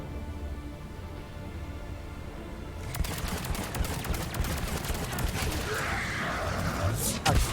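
Rapid bursts of gunfire in the Mass Effect 3 video game, starting abruptly partway through and continuing as a dense, loud volley layered with combat noise, with talk at times.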